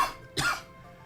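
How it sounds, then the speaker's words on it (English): A single short, sharp cough from someone live-streaming a video game, close and clear against a quiet background. "nice of the cough to just interrupt me"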